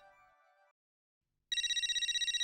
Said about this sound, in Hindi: मुसीबत का नाम लिया लिया और जेठालाल का फोन आ गया